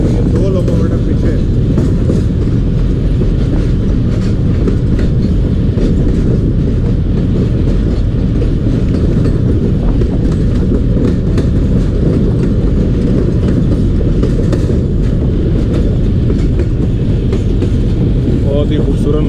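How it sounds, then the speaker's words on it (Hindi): The Jaffar Express, pulled by locomotives at the front with two more pushing at the rear, rumbles loudly through the Bolan Pass between Sibi and Quetta. Its wheels keep up a continuous clickety-clack close by. "लोकोमोटिव आगे और फिर उसके बाद उसके डब्बे और फिर ये 2 लोकोमोटिव पीछे"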